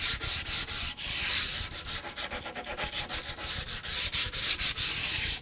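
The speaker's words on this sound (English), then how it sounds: "So lastly, I'll give the handles a sanding and then break all of the edges." New wooden wheelbarrow handles are sanded by hand in close, loud, rhythmic rasping strokes, one quick pass after another.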